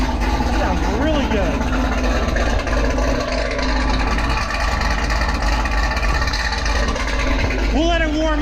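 Chevrolet Camaro ZL1 with an aftermarket exhaust idling while it warms up, a deep steady rumble close by, with people talking over it throughout.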